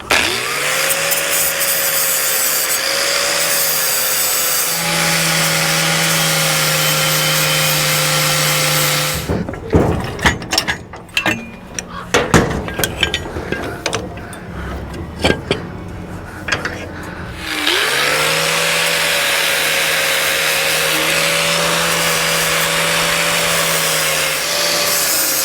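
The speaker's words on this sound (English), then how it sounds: "I'm going to grind down the rest of it." An angle grinder grinds down a crack in a Dodge Dakota exhaust pipe, running at a steady high whine alone, broken midway by a stretch of rough, uneven contact bursts before the smooth whine resumes.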